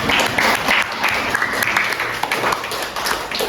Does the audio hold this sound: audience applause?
yes